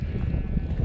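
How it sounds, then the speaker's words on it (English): Sheep bleating outdoors along a hiking trail in English gritstone countryside, a short, loud, continuous call heard close by with no voices. "There are sheep everywhere here."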